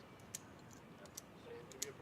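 Pen clicking at a live poker cash game table, a few faint, sharp clicks spaced irregularly against quiet room tone and soft background chatter.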